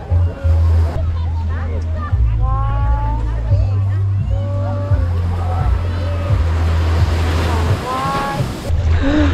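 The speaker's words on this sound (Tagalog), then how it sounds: "Nasa beach tayo. Let's go swimming sa Ilocos Norte." Ocean surf washes onto a beach at Saud, Pagudpud, Ilocos Norte, a steady roar with heavy wind buffeting the microphone, while people talk over it throughout.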